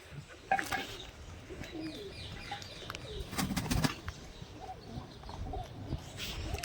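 Pigeons coo softly in the background as they leave a pigeon loft, with a brief flutter of wings partway through; fairly faint overall.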